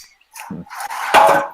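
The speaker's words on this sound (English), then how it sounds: "I'm closing windows and doors so we don't have dogs interrupting again." Windows and doors being shut indoors: a couple of short wooden knocks and scraping rubs, close and moderately loud, with quiet gaps between them.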